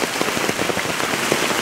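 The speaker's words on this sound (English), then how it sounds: "Yeah, it's raining." Heavy tropical-storm rain pours down steadily, a dense, close hiss of drops spattering on surfaces with water running, and no voices.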